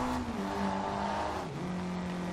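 A Mitsubishi Lancer Evo VI rally car in Forza Horizon 2 revs its engine in rising and falling tones, dipping briefly midway before climbing again, steady and close with no talk.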